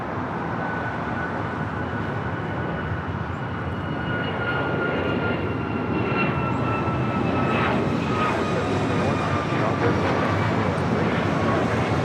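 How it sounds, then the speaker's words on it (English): An Alaska Airlines Boeing 737 MAX 9 takes off from LAX bound for Liberia, its steady jet roar sustained and fairly close, with faint background voices at times. "This is Alaska Airlines 1412 taking off to Liberia on a MAX 9."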